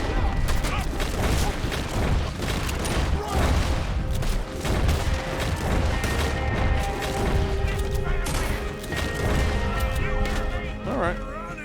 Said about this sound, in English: Alright, pretty fast shootout.